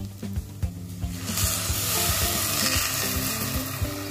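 Grated carrot halwa sizzles in milk in a pan, a steady frying hiss that swells after a moment, with occasional stirring clicks and scrapes.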